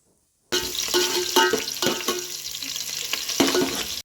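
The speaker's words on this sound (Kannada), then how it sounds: "ಪಾತ್ರೆಗೆ ಟೂ ಟೇಬಲ್ ಸ್ಪೂನ್ ಎಣ್ಣೆ ಮತ್ತು ಚಿಕ್ಕ ಚಿಕ್ಕದಾಗಿ ಹೆಚ್ಚಿರೋ ಈರುಳ್ಳಿ ಮತ್ತು ಮಟನ್ನಿನ ಕೊಬ್ಬು ಅಂದರೆ ಫ್ಯಾಟ್ನ ಆ್ಯಡ್ ಮಾಡ್ಕೊಂಡು ಚೆನ್ನಾಗಿ ಮಿಕ್ಸ್ ಮಾಡ್ಕೊತಾ ಇದ್ದೀವಿ" Chopped onions and mutton fat stir-fry in two tablespoons of oil for mutton keema, a loud close sizzle that starts abruptly, with spoon scrapes and stirring strokes and no talking.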